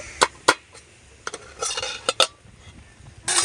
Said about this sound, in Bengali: দশ মিনিট পর ঢাকনা তুলে নেব